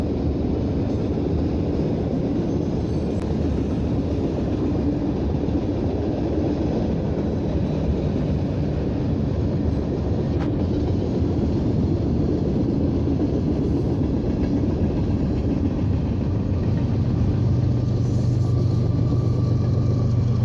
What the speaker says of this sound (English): Two extra locomotives have been placed on the rear to help shove this train over the Cascade Mountains on its trek down to California.